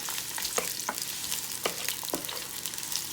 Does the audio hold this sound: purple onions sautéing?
yes